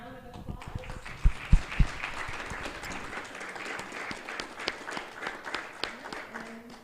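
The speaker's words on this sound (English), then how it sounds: "Let's give them a round of applause." Scattered applause for the panel and staff at a small business week marketing event. The claps are fairly light and uneven, with a few louder ones near the start, and some voices murmur underneath.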